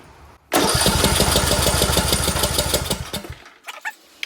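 A Briggs engine on a John Deere D105 lawn tractor cranks briefly and then runs for about three seconds with a loud, steady, throbbing roar that fades away. A few faint knocks follow once it stops.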